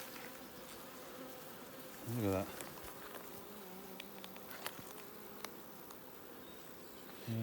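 A wasp buzzes near a beehive during a honey harvest outdoors. It is a close, droning whine that rises and wavers as it passes, with a second brief pass at the end and other insects humming faintly. Someone speaks briefly.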